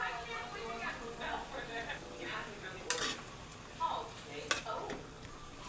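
Egg going into a pan and being stirred, a faint sizzle with scattered clicks of a utensil against the pan and a few sharper knocks, with talking over it.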